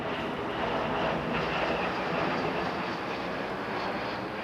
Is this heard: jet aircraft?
yes